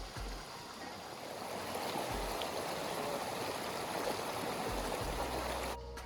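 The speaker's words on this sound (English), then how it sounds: "we got to experience the little creek across the street instead" A small creek across a street flows steadily in a continuous gentle rush of water, fairly close and even, with a few low thumps of handling noise.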